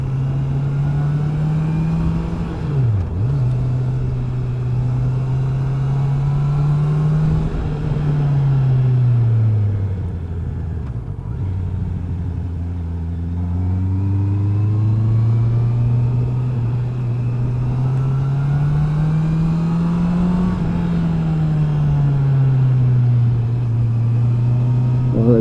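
Honda CB650R motorcycle with a 649 cc inline-four being ridden, its engine and airbox drone rising and falling steadily through gear changes, loud and continuous throughout, with occasional wind rush.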